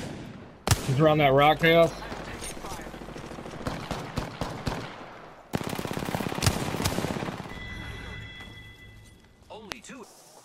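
Rapid automatic gunfire in the battle royale game Apex Legends, sharp bursts of shots crackling in clusters with quieter pauses between, while someone talks over the fighting.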